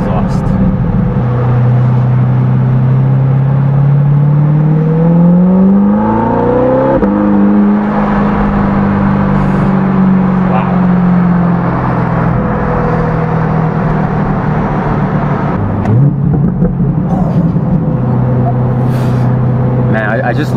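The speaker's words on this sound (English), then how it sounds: "just listen to this exhaust" A C8 Corvette fitted with an aftermarket exhaust revs loudly and close by, its pitch climbing and falling across sustained engine drone with no talk over it.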